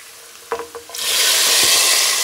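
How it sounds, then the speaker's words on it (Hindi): Hot tadka is poured into a pot of mash and chana dal, a few clinks and knocks followed by a sudden loud, roaring sizzle that holds steady to the end, close and without speech. "तो अब हम दाल के अंदर ये तड़का डालेंगे"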